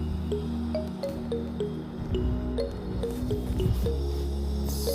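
Ivy gourd frying in a pan with turmeric and salt: a continuous close sizzle with soft wet popping and repeated small clicks, steady throughout, with no voice.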